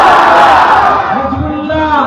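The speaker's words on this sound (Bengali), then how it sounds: "এবার সবাই একসঙ্গে হুজুরের দরবারে তাকবীর দেন" A crowd at an annual Islamic religious gathering (Isale Sawab jalsa) at Bankul Sharif answers the call, voices rising together in a loud, continuous chant that holds steady for about two seconds.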